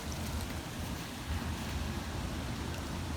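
Floodwater at a wildlife sanctuary pours over and around a spillway, a steady broadband rushing wash with some wind buffeting on the microphone and no talking.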